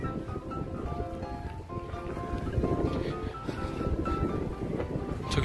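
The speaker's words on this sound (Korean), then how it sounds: "바람 많이 부네요." Strong wind buffeting the microphone at Seal Beach pier, a steady loud rumbling roar with gusty swells, with faint distant surf and background sounds underneath.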